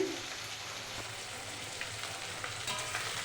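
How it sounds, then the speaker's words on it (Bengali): Onions frying in oil after potatoes, a soft, steady crackling sizzle like light rain, fairly quiet and close, with a faint stir or two and no talking. "পেঁয়াজটাকে একটু ভেজে নেব"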